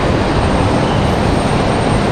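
A Republic Airways regional jet arriving from Hilton Head at Raleigh-Durham International gives a loud, sustained engine roar with a thin high whine, unbroken and without talk.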